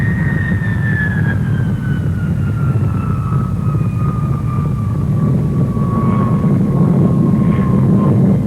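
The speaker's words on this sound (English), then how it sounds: "New Vulcan, the world's biggest delta." An Avro Vulcan delta-wing bomber flies over the Farnborough Air Show in the late 1950s with a loud, continuous jet roar, and a high whine slides gradually downward in pitch as the aircraft passes.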